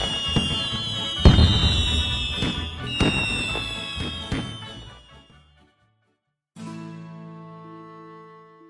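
Fireworks burst at a music festival in a dense run of loud cracks and booming thuds for about five seconds, then fall silent before a steady tonal hum rises.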